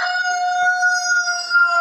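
Chickens in a coop on a small egg farm in winter, with one loud, close rooster crow. It is a sustained, ringing call lasting most of the moment, with faint clucking behind it.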